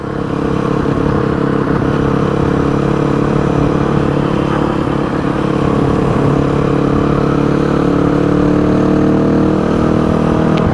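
A Yamaha WR250F motorcycle engine runs steadily and loud at close range, a continuous chugging drone with no speech over it.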